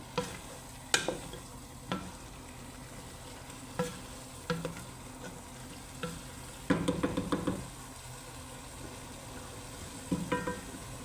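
Faint sizzling of rice frying for chicken biryani, with a spoon scraping and stirring in a pan, irregular taps and clinks scattered through a quiet background hiss.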